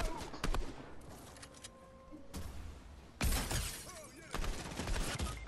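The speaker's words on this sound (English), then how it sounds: "he has a compact SMG, for sure" Compact SMG fire in the Fortnite video game comes in rapid, sharp bursts of clustered shots, fairly quiet, separated by brief pauses.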